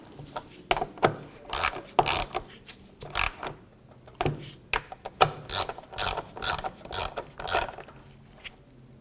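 A ratchet clicks in quick bursts while intake manifold bolts are snugged on a 2007-2014 Cadillac Escalade, repeated short runs of metallic ratcheting with pauses between, close and clear with no talk.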